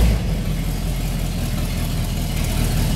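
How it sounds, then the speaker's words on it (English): A 1972 Cadillac Eldorado convertible's V8 idles steadily with no mufflers fitted, giving a loud, constant low rumble with an even exhaust throb and no voices. "I'll go ahead and fire it up. See and hear it run. Could use mufflers."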